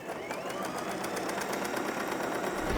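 A sewing machine running a short reverse stitch while finishing a fabric scarf, a close steady mechanical whir with a rapid even needle clatter throughout.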